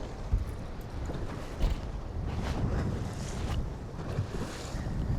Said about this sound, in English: 'Cause that's crazy windy.